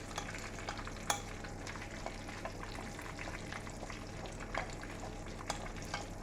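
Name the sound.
breaded pork frying in a pan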